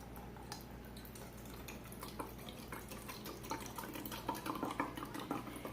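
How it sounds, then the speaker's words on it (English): A cup of apple cider vinegar poured into a batch of fermented hot sauce: a faint, close trickle and splashing drips that grow busier toward the end, with no talking. "I'm going to put a cup of the apple cider vinegar."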